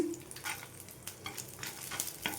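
Dried red chillies frying with garlic in a pan over medium flame, a steady close sizzle broken by soft scraping stir strokes.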